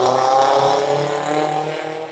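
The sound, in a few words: loud car or motorcycle driving down the street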